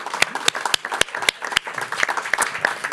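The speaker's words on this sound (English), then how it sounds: "Give her one more round of applause." An audience at a talk event claps in a round of applause, with sharp, distinct individual claps over a softer bed of steady clapping.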